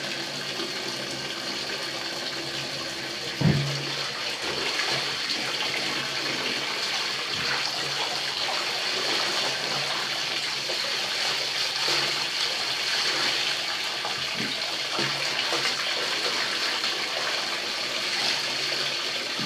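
Hand-washed laundry is rinsed in a basin, with steady splashing and sloshing water running continuously and close, punctuated by a few heavier thumps of wet fabric.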